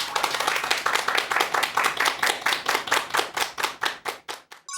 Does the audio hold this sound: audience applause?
yes